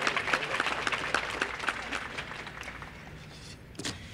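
An audience claps in sustained applause at an HBCU Week event with a congressional delegation, a dense patter of hands that gradually fades and thins out toward the end.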